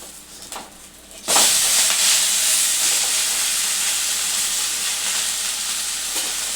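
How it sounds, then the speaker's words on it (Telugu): Dibba rotti made from leftover idli batter fries in a pan over a flame just below medium, bursting into a loud, steady sizzle after a brief quiet start and holding that even hiss, nearby and alone. "ఇది మంచిగా లోపల వరకు వేగుతుంది."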